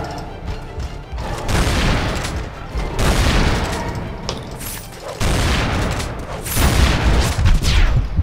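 Shotgun blasts from Tomb Raider Anniversary in the Greek Colosseum level, loud booming shots repeated across the clip over a dense, noisy game soundscape with no talking.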